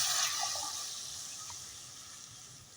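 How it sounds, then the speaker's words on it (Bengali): Water is poured into fried spice masala for a vegetarian maida tobka curry, giving a steady hiss and sizzle that fades slightly over a few seconds. "এবার দিয়ে দেব জল"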